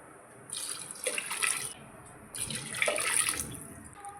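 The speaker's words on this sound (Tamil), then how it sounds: "இந்த டைமில் வந்து நம்ம தண்ணி சேர்த்துக்கலாம்" Water is poured from a glass into a pressure cooker holding mutton biryani, in two separate splashing pours of about a second each with a short pause between, close and moderately loud with no talking.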